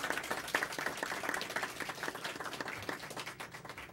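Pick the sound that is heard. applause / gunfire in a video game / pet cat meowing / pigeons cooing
applause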